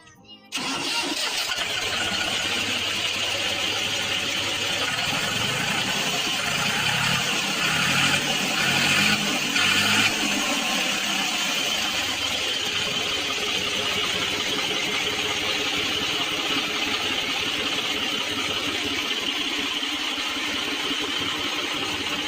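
A 2015–16 Swaraj 744 FE tractor engine in working condition starts, then runs steadily and loudly at a close, even idle for about twenty seconds.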